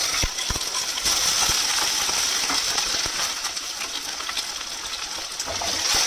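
Potatoes and raw banana frying in hot mustard oil, a steady, loud, close sizzle with occasional small pops and clinks running throughout.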